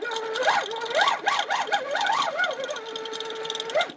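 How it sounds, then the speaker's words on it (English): A Janome SD16 sit-down longarm quilting machine with stitch regulator sews in a steady, close mechanical hum, its pitch rising and falling as the speed changes in quick bursts and then holding level. "When we sew, it's going to keep our stitches even for us."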